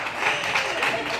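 A live concert audience applauds a band from Paris at a Toulouse venue, a steady wash of clapping through the short moment with a voice speaking over it.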